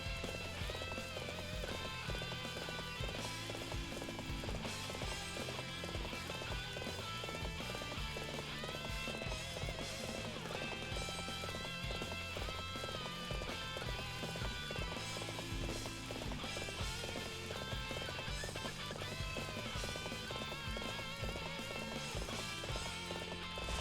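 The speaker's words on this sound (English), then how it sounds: "Let's call the horse, because that's a long walk." Rapid clip-clop of a galloping horse in the Dynasty Warriors 7 video game, a steady, driving hoofbeat that runs continuously under a dense, loud layer of game music and battle ambience.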